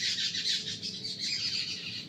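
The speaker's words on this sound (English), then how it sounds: "the birds are fighting" Fighting birds squawk harshly and continuously at close range, a dense, raspy chorus with no voices over it.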